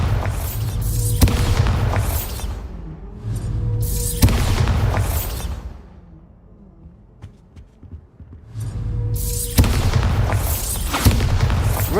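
Repeated heavy blasting-spell explosions in the Hogwarts Legacy video game, loud booming bursts that rumble and decay, with a brief quieter lull between blasts before more explosions roll in.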